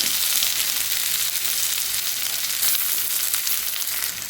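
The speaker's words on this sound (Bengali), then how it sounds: "পেঁয়াজটা একটু লাল লাল করে ভাজা হচ্ছে, ততক্ষণ এটাকে আমি ভালোভাবে ভেজে নেব।" Onions frying in oil with cloves, bay leaf, cumin and five-spice seeds for a potato curry, giving a steady, close, loud sizzle that crackles continuously without pause or talk.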